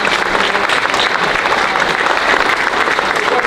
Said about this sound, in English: Let's give the museum a round of applause.